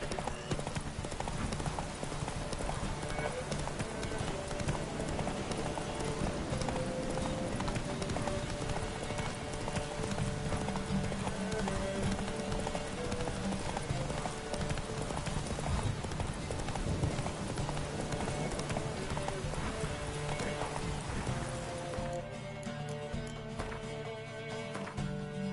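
During a race in The Witcher, Roach gallops in a loud, unbroken drumming of hooves under steady game music. The sound thins out near the end.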